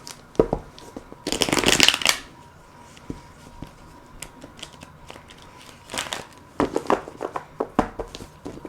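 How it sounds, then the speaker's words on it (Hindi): Tarot cards shuffled by hand close up, with bursts of riffling and soft card slaps in a quiet room and brief pauses between shuffles. "लास्ट शफल करते थे।"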